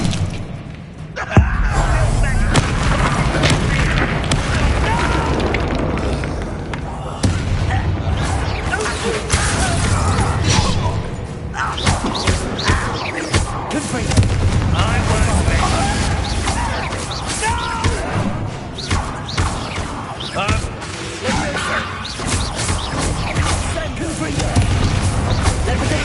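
Confringo blasting spells exploding during a fight in a Harry Potter video game: a dense, loud barrage of booms, crashes and whooshes that keeps up almost without a break.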